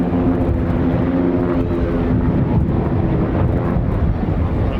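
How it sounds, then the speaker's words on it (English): Six Saab T-17 Safari training aircraft of the Yellow Sparrows display team fly in formation at an airshow, a steady loud engine drone mixed with heavy wind buffeting on the microphone. "Here we see their display team, Yellow Sparrows, in action, flying 6 Saab T-17 Safaris"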